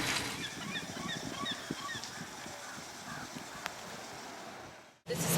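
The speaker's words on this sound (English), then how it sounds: "Even the geese are trying to shelter under the Panmure Island lighthouse in the rain." Several geese honk repeatedly at a distance over steady wind and rain noise at Panmure Island lighthouse, Prince Edward Island, the calls overlapping and trailing off before a brief cutoff.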